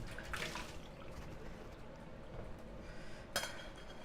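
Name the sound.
rinsing rice in water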